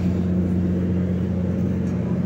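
Steady low mechanical rumble of vehicles being loaded onto a ferry bound for Gozo, a continuous engine and hull drone heard up close without pauses.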